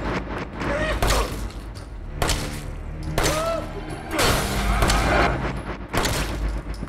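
Gunfire in the video game Resident Evil 7: loud, broadband shots crack out in irregular bursts a second or so apart, with booming low-end tails and no voices.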